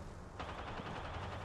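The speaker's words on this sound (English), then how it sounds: "Enemies are shooting at me." Rapid gunfire in an Apex Legends match, a quick burst of shots rattling over a steady background din, brief and moderately loud.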